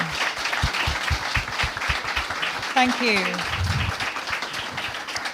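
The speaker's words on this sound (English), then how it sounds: "Can we have a massive round of applause for our fantastic judges" An audience at a UK startup pitch competition final applauds the judges. The clapping is moderate and a little uneven, and a voice speaks briefly over it midway.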